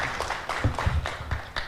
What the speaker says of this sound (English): Let's clap for her so that she feels encouraged